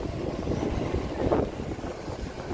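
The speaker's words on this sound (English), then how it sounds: "It's getting windy now too." Strong wind buffets the camera microphone on a street in Akihabara, Tokyo, a continuous low rumbling roar that swells briefly and stays loud throughout.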